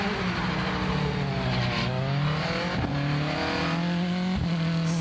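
A rally car launches at the start of a stage, its engine revving loud and close and rising in pitch through several gear changes, with a continuous rough roar throughout.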